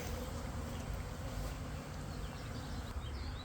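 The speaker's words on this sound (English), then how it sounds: "bees getting their orientation flights in." Many honeybees hum in a dense, continuous buzzing drone during spring orientation flights around hives in a bee yard, steady and close with no pauses or voices.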